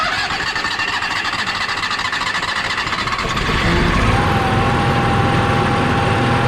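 Auto start generator cranking and catching, rough mechanical chatter that settles into a steadier, louder engine run with a rising whine partway through, close and without talk.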